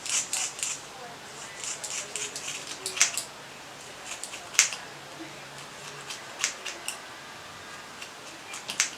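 Scissors cut through a synthetic wig's hair with repeated crisp snips at an uneven pace, close and fairly clear over a soft background hiss.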